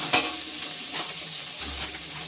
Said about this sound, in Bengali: তেলের মধ্যে একটু হালকা নেড়ে নিচ্ছি আদাটা